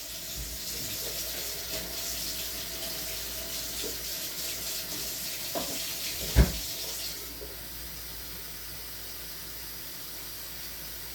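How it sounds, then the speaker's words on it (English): Hot water gushes steadily from a kitchen tap over raw chicken being rinsed for chicken soup, a constant close hiss with one sharp knock midway before the flow eases. "when I'm running the hot water, I'm running it like along the chicken"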